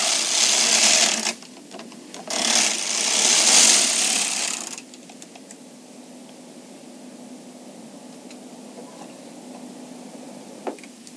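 A Bond Elite knitting machine knits two rows, its carriage sliding in two bright, hissing swishes that stop abruptly, followed by quiet room tone with a faint click.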